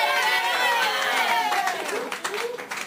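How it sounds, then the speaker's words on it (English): A dense crowd at a high school football event cheers and chatters continuously, loud and close, with cheerleaders leading impromptu cheers amid scattered claps and shouts. "Cheerleaders are leading the impromptu cheers that we're having"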